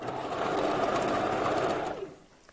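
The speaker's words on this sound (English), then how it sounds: "that's when I start to stitch and start sewing there and do my back stitch" A sewing machine runs in one continuous whirring burst for about two seconds, stitching a wig weft onto a mesh cap, loud and close before stopping abruptly.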